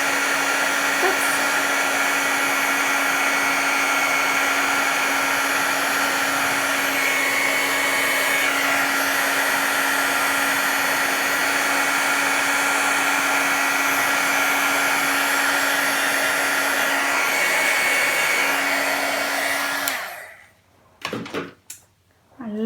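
A heat tool blows steadily and loudly over a card, melting white embossing powder into a glossy finish, a continuous whirring hum that runs alone for about twenty seconds before cutting off, followed by a few faint clicks.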